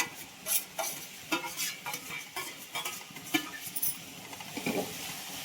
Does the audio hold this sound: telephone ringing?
no